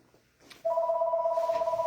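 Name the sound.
telephone ringing, incoming phone call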